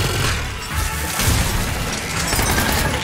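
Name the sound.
gunfire and explosions in a video game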